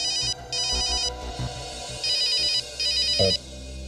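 An electronic telephone ringtone sounding in repeated short bursts, a bright warbling trill that stops and starts in regular pulses, loud and close, with a brief soft thump partway through.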